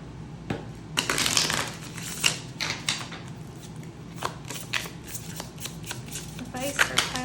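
Tarot cards shuffled by hand during a card reading: repeated crisp riffling and slapping bursts, close and fairly loud, in irregular clusters across the span, with a voice faintly present in the background.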